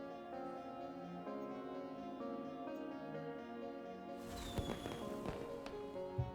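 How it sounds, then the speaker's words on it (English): Fireworks launch in a roguelike city-builder video game, a cluster of soft crackling bursts and pops arriving near the end over steady background game music. "Launch fireworks that make your people work more productively."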